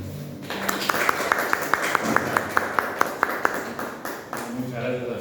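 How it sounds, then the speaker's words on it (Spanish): At an academic dialogue on the Palestine–Israel conflict, an audience greets the guests with sparse, evenly spaced claps for a few seconds, mixed with voices in the room. "pedimos un fuerte aplauso para ambos"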